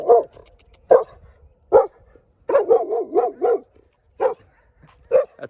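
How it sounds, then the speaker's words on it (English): A neighbour's protective farm dog barking outdoors, loud single woofs spaced out, then a rapid run of several barks, fairly close with no one talking. "Ooh, look at this dog."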